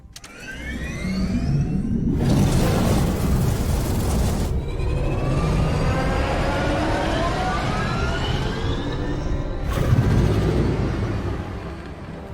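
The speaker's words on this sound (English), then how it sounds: "I can hotwire any grav cycle, no problem." A grav cycle being hotwired and started in the video game Disintegration, with a rising whine building into a loud sustained engine roar, pitch sweeping upward, with bursts of harsh noise at the start and again later.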